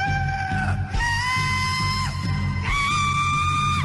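Shrill, sustained screaming from a talent show performance, loud and continuous with pitch swoops and brief breaks, over a low rumbling background.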